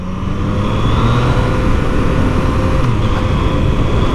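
A 2020 Yamaha MT-09 motorcycle engine drones steadily at speed, loud and continuous with a smooth, even tone and no voices over it.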